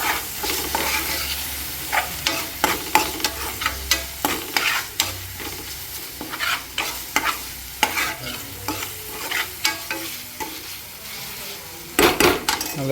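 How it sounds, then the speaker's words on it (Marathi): Ginger-garlic paste fries in a pan while a spoon stirs it in repeated scraping strokes over a steady sizzle, with a few sharper clinks of utensil on metal near the end. "आलं लसूणची पेस्ट टाकून"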